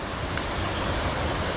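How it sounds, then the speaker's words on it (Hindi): Near Kothi village outside Dehradun, a river flows far below, giving a steady, broad rushing hiss of water mixed with a touch of wind, with no talk. "अब हमको ये पानी की आवाज़ आ रही है"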